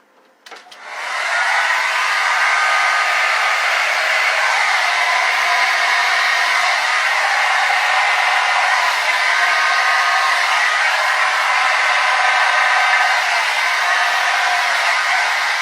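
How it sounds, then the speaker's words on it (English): A hair dryer switches on and blows with a steady, loud whooshing roar that holds unchanged for the rest of the clip, with no talking. "Blow dryer. Here we go."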